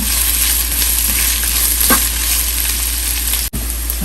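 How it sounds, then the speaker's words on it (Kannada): Onions frying in a pan for a drumstick fry, a loud steady close-up sizzle that runs without break, with a brief stir near the end. "ಈಗ ಈರುಳ್ಳಿ ಆ್ಯಡ್ ಮಾಡೋಣ. ಇದನ್ನು ಸ್ವಲ್ಪ ಚೆನ್ನಾಗಿ ಕೆಂಪಗಾಗೋ ತನಕ ಹುರ್ಕೊಳ್ಳೋಣ."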